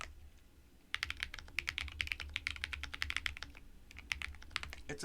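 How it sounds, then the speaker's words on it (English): Rapid typing on a heavy FancyAlice66 mechanical keyboard, close and crisp, with a dense run of individual key clacks after a brief quiet start and a short pause before more keystrokes. "it's not the softest typing experience either."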